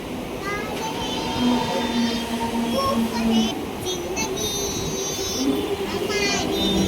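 A passenger train at Nalasopara station on a trip from Vasai Road to Ratnagiri, a continuous loud rumble of the carriages with squealing, whining tones, with voices and children talking over it.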